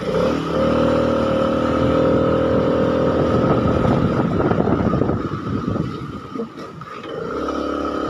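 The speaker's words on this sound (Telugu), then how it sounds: "సో దీని యొక్క స్పీడ్ సౌండ్ వినిపిస్తాను. స్పీడ్లో ఉన్నప్పుడు సౌండ్ ఎలా వస్తుందో ఒకసారి అబ్జర్వ్ చేయండి మీరు." Vespa scooter engine running at speed on a night ride, a steady droning hum with wind rush over the microphone, the pitch dipping briefly near the end before settling back.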